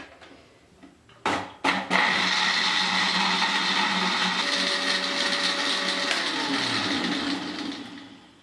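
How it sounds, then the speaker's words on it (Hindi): Electric blender whirring through falsa berries, ice and lemon juice: a couple of sharp clattering bursts as it starts, then a loud, steady grinding roar that eases in pitch and fades near the end. "और अब हम इसको ब्लेंड कर लेंगे अच्छे तरीके से।"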